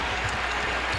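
A crowd in a college basketball arena at a Kansas–Texas game roars and claps, a dense, unbroken wash of cheering and applause filling the space at steady loudness.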